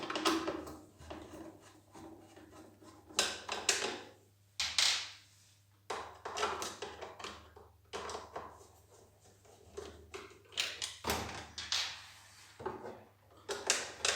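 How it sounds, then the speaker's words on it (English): Screws are being unscrewed from the electric box of a Portotecnica Mitho HDEm 100 HW scroll-body ventilator, giving intermittent close clicks, scrapes and metallic handling knocks in irregular bursts with short pauses between them. "I'll unscrew the screws that holds electric box"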